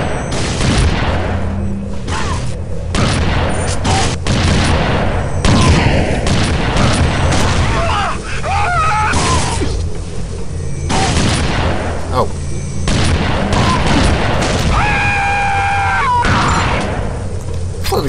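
Enemy gunfire in the first-person shooter Unreal 2: The Awakening, loud bursts of shots and booms packed close together under continuous game noise, with someone talking over it.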